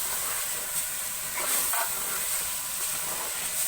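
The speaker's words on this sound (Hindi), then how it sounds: "अब कलेजी को थोड़ी देर भून लेंगे।" Goat liver fries in a pan with a continuous bright, even sizzle and hiss. It holds steady at close range throughout, with no talking.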